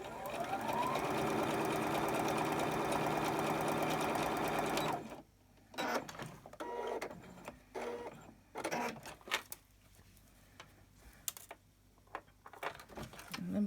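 A sewing machine stitches quilt strips together for a rainbow quilt, running in a fast, steady whir for about five seconds before stopping, followed by soft fabric handling and small clicks.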